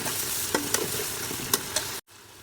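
Garlic and ginger paste is worked into chicken frying in a pan, with several spoon scrapes over a steady loud sizzle that cuts off abruptly near the end; no voices.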